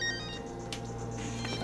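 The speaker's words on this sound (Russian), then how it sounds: "Телефон." A telephone rings in a hospital setting, its tone faint and steady beneath low room hum, with no talk over it during this short stretch.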